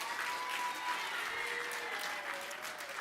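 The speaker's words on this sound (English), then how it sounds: "So one more round of applause for all of our great cabinet members." An audience gives a round of applause for cabinet members on Inauguration Day, a dense, steady wash of clapping from many hands sustained for several seconds at moderate distance.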